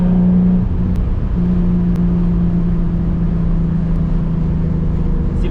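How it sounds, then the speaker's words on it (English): A loud 800 whp turbocharged Nissan 350Z drives along, its engine a steady, heavy drone with a low harmonic hum from start to finish and a brief shift in pitch early on. "What a beautiful day to be disturbing the peace in my loud 350Z."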